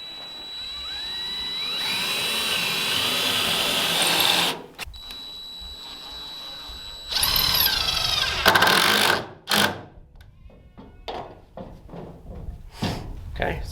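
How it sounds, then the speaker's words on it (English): A power drill whirs steadily for several seconds boring a pilot hole into a reclaimed wood board, then runs again in shorter bursts while driving a 3-inch screw, with clunks and handling noise after. "I want to drill a little pilot hole right here in the middle of this 16 inches"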